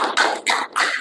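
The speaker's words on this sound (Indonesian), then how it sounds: "tepuk tangan buat semuanya" Applause from a classroom of students, delivered as three short bursts of clapping separated by brief pauses, fairly close and loud with no talking over it.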